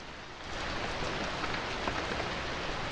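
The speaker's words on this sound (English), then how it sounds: "This rain is also gonna put me to sleep too." Steady rain falls in The Sims video game, a soft, even hiss of drops on surfaces continuing throughout with no talking.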